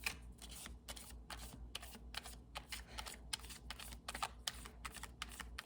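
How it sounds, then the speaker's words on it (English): A deck of playing cards being shuffled indoors, a quick series of crisp riffling bursts repeating in an even rhythm, close and fairly quiet over a low steady hum. "he doesn't like the cards being shuffled"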